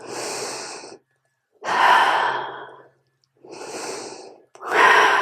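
Two slow, deep breaths, each a long inhale followed by a heavy exhale, close and clear with silent pauses between them, taken during a pelvic floor exercise routine.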